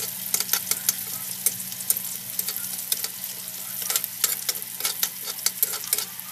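Onion and garlic sauté together in oil in a pan, with a steady close sizzle and repeated scraping stirs of a utensil against the pan, no talking.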